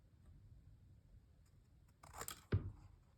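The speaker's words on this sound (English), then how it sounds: "I'm going to cut off the extra at the bottom here." Scissors slice through spare journal paper in a short close cut, a brief crisp snip and rustle ending in a sharp clack against an otherwise quiet background.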